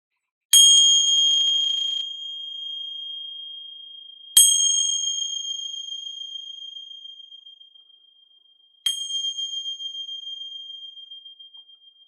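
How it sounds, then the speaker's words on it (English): Three clear, high metallic bell strikes spaced several seconds apart, each ringing out and slowly decaying in an otherwise quiet space. "Gonna ring some bells here."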